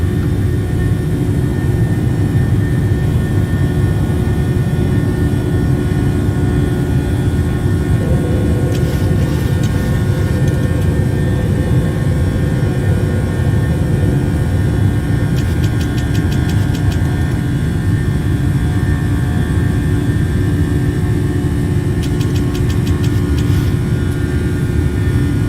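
PMDG Boeing 737 jet engines in Microsoft Flight Simulator drone steadily at climb power after takeoff, a continuous loud roar with faint periodic clicking overhead and no talk.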